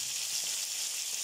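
Spice masala sizzles and fries in a pot for pulao, a steady close hiss with no pauses throughout.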